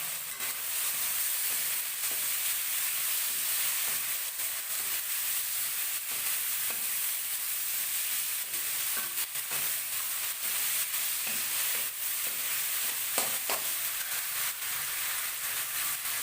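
Steady frying sizzle of chilli fish with a little turmeric powder being stirred in a pan, a constant hiss with occasional scraping clicks throughout and no talking.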